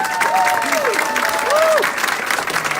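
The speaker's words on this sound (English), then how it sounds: "applause." A town hall audience in Concord, New Hampshire breaks into steady, dense applause that fills the room, with a few whistle-like tones rising over the clapping.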